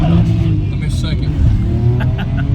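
A BMW accelerates hard up a highway on-ramp with traction control switched off, its engine droning loud and steady throughout under voices talking inside the car.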